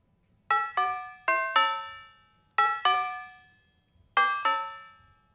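Bells from the isolated multitrack stem of a disco song: seven somewhat dull metallic strikes in three quick clusters, each ringing out briefly with a bright decay, heard alone.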